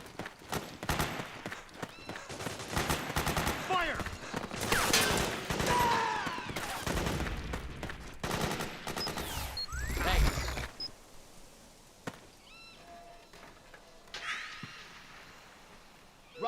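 Gunfire in the video game Metal Gear Solid 4, dense bursts and shots mixed with loud chaotic battle noise for the first ten seconds, then thinning to sparse isolated cracks over a quieter background.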